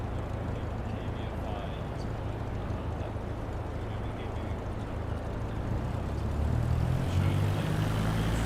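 The engines of a Boeing airliner in Microsoft Flight Simulator make a continuous low, rumbling drone that swells slightly toward the end, with a faint voice underneath.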